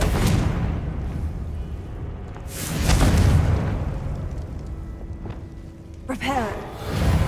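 A Confringo blasting spell goes off in the video game Hogwarts Legacy with booming bursts and rumbling blasts, some near and loud, amid game sound effects.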